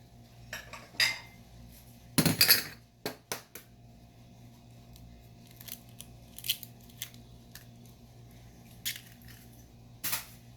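A plate and cutlery are handled in a home kitchen, with sharp metallic clinks and scrapes in scattered bursts, one cluster louder near the start, set against a quiet background.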